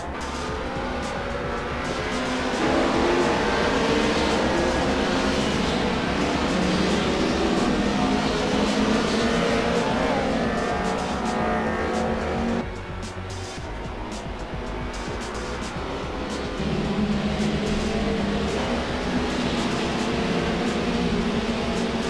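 Racing cars from the Assetto Corsa sim game idle and roll through a pace lap at Vallelunga, engines droning steadily and loudly throughout with shifting tone, a dip near the middle, then rising again.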